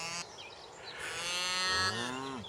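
A cow calls to a calf with a long, rising-and-falling moo that swells in loudness and then tails off, close and alone on a farm.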